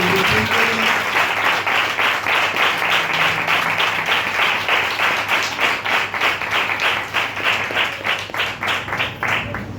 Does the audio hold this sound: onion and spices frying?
no